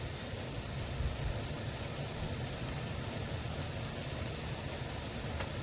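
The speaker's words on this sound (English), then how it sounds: "it's really bucketing down now." Heavy rain pouring down on a hot day, a dense, even hiss of steady downpour with scattered drops spattering on surfaces, continuous and without speech.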